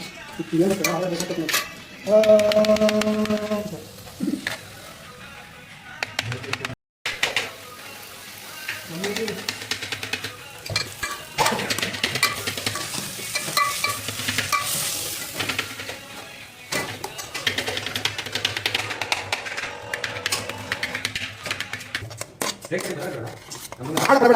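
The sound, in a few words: potatoes frying and being stirred in a pan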